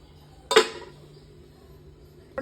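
A lid set down on a cooking pot of curry gives one sharp metallic clink, followed by a quiet pause and a second softer clank near the end.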